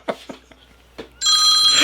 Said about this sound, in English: Hey, your phone's ringing.